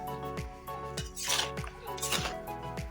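Mango pickle being stirred in a pan, a utensil scraping and knocking the metal in a steady rhythm about every half second, with soft sticky squelches between the strokes, close and fairly quiet.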